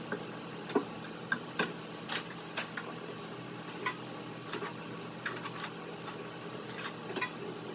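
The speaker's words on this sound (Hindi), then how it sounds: "अब जल्दी से बर्तन धोने का काम कर लेते हैं" Dishes, pots and pans being washed in a home kitchen, with scattered clinks and clatters of cookware and cutlery over a steady background of running water, moderately close.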